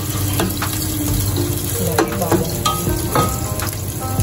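Garlic and onion frying in a pan with a constant close sizzle, broken by several sharp clacks and scrapes of stirring utensils.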